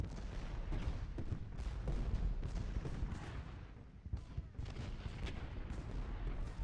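Artillery cannons boom repeatedly in an Ultimate General Gettysburg battle, a steady stream of distant-sounding shots and rumbles layered over one another in continuous bombardment.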